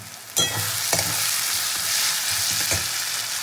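Spices and a chopped tomato frying and being stirred in a pan, a steady close sizzle with a few sharp scraping stir strokes and no talking.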